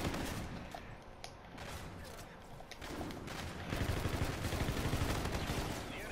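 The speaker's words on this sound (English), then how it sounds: "that was the ugliest gunfight I've ever gotten into" Rapid gunfire during a gunfight in Call of Duty: Infinite Warfare, dense bursts of shots over a continuous noisy game soundscape that gets louder and busier toward the end.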